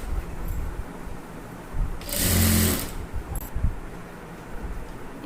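A sewing machine stitches embroidered blouse fabric in one close, loud whirring burst of about a second, surrounded by quieter handling noise.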